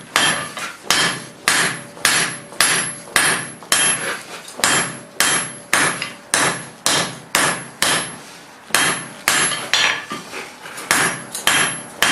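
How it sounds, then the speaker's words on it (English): A hammer edge strikes a hot steel bar while forging bolt jaw tongs, a steady, rhythmic series of loud ringing blows, about two per second, with brief pauses between bursts. "I'm using the edge of my hammer here to work"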